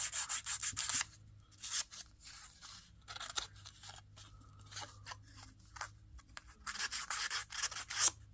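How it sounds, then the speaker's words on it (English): Small sanding block scraped in rapid bursts of rough, scratchy strokes across a paper ticket from a ticket book, close and moderately loud, separated by short pauses, no talking. "Just give it a little sand toward the front side here."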